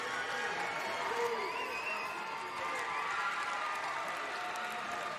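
Crowd at a women's basketball game between South Dakota State and Utah cheering near the finish, fans in Utah red on their feet: a steady roar of cheers and applause throughout, with voices mixed in.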